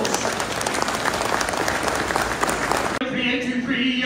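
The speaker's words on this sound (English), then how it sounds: "give them a round of applause" Crowd applause at an auction at a Christmas market in Bakewell, dense and steady for about three seconds before it cuts off abruptly and a voice takes over.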